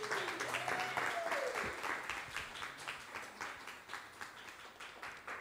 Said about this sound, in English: Please give a very welcome applause to Mrs. Georgia Savidou from Stockholm.